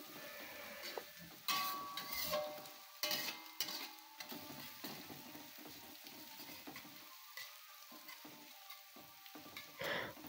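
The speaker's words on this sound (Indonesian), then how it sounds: "Nah ini kita oseng-oseng bawang merah dan bawang putihnya supaya nggak gosong." Shallots and garlic stir-fried for fried rice crackle and sizzle in hot oil, with repeated scraping strokes of a spatula against the pan and small clinks between the bursts, fairly quiet and with no talk.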